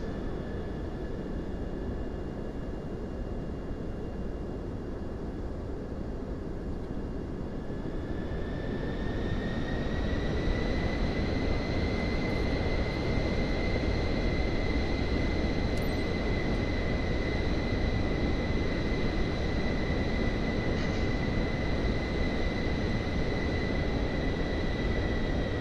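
A simulated aircraft taxis in Microsoft Flight Simulator 2024, a steady engine roar and broadband rumble with a high whine that rises slightly in pitch partway through as power increases, continuous and loud without talk.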